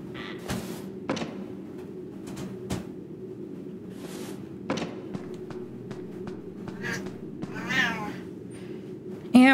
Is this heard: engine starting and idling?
no